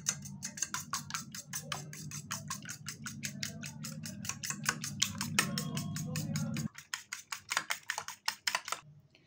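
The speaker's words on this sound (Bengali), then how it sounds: "এবার একটু খুব ভালো করে ডিমটাকে ফেটিয়ে নেবো এইভাবে।" Four eggs with salt are beaten briskly by hand in a bowl, giving rapid, regular tapping clicks close by. A low hum underneath cuts out partway, leaving the quick taps alone.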